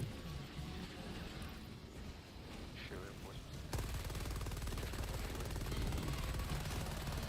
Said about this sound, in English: I'm gonna drop a machine gun behind us to cover us.